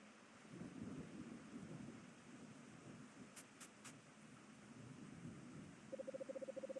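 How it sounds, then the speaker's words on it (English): Heavy rain pouring down in the video game Anodyne 2, a dense constant hiss with rumbling thunder underneath, a few brief electronic beeps midway and a rapid pulsing tone near the end. "It's coming down pretty heavy now."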